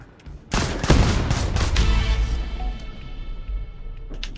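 Gunfire from the video game Quantum League: a loud, close burst of rapid shots that fades into a lingering rattle and tail.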